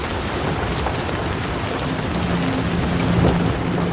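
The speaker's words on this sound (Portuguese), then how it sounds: "A chuva não dava tréguas." Heavy rain falls steadily and densely across the whole stretch, a constant loud hiss with low rumbling thunder rolling underneath at a distance.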